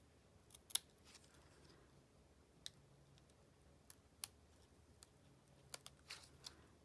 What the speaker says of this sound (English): So the best thing to do is just trim this out